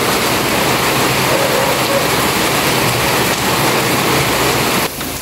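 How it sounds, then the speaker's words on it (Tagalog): Steady rain pours down without a break, a dense, loud hiss that holds evenly and drops off slightly near the end. "Kasi itong ulan, lalakas, ihina, kawala-wala."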